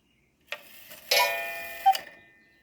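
An antique cuckoo clock's strike side sounds the half hour, with a gong struck within the works, heard as a few sharp metallic strikes that ring and decay, close and quiet with no talk.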